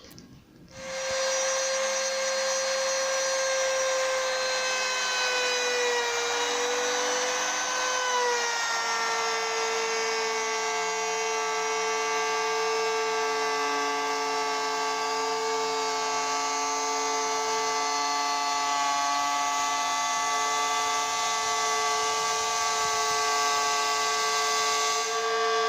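A power tool whines steadily as it cuts a groove into an oak shelf board for a lock corner mitre joint, starting abruptly and running loud and continuous for over twenty seconds with a slight pitch dip as it loads.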